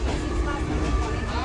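Steady low rumble and rattle inside a moving Mumbai local train carriage, a continuous close mechanical roar with no clear voices.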